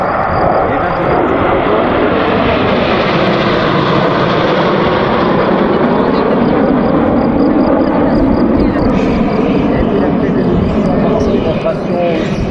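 Patrouille de France training jets roar loudly and continuously during an air display demo at Gap-Tallard, a broad engine rush that swells and shifts in pitch, with a voice commentating over it.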